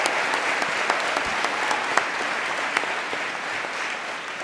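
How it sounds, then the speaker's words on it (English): Steady applause from an audience at a Hopkins community event, honoring student leaders; dense, continuous clapping with occasional sharper claps standing out, sustained at even loudness throughout. "Can y'all give them another round of applause and really appreciate them?"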